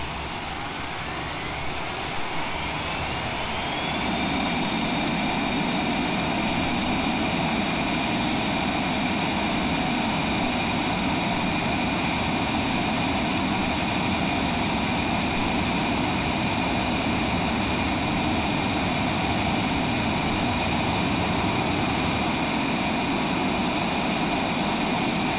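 Twin jet engines of a Cessna Citation Longitude business jet spool up to full takeoff power, a loud steady roar with a tone rising over the first few seconds and then holding constant, with no talk.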